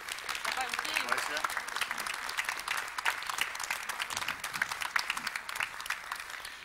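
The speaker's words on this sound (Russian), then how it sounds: "Прошу вас, Екатерина, вам аплодисменты." Studio audience applauding on a Russian TV game show, steady dense clapping from a crowd at moderate volume that carries on without pause throughout, with a voice speaking over it.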